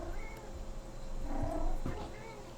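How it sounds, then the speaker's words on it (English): A pet cat meows in protest, drawn-out yowling cries rising and falling close by over a low background hum. "that my cat is protesting"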